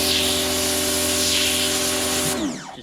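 A Parkside PHD 110 pressure washer sprays a fanned jet onto dirty tile grout lines, giving a loud steady hiss with motor hum that cuts off sharply near the end.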